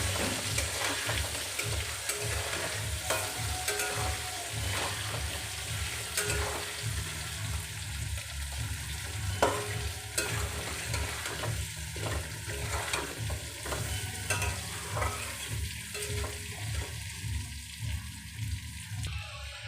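Potatoes frying with salt and turmeric in a pan, a continuous close sizzle broken by repeated scraping and tapping stir strokes, with no voices.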